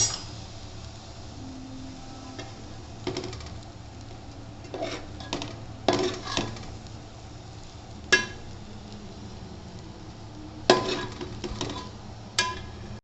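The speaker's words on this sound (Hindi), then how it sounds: "और चम्मच चला लिया जाएगा इसमें, अच्छे से इसे शामिल कर लिया जाएगा" A spoon stirs green onions into chicken fried rice in a pan, with a soft steady sizzle beneath and several sharp clinks and scrapes of metal against the pan at irregular intervals.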